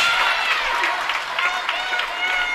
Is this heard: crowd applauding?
yes